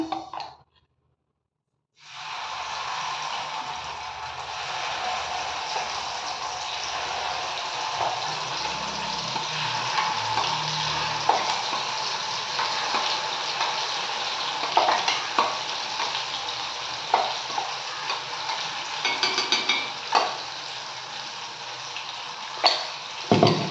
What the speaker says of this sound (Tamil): இப்போ இந்த கிரேவி கொதிச்சுட்டு இருக்கிற நேரத்தில்